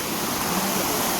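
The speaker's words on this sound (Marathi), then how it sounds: "कसा धबधबा आहे गाईज बघू शकता तुम्ही" A waterfall gives a steady, dense roaring rush of falling water, continuous and fairly close, with no other sounds standing out.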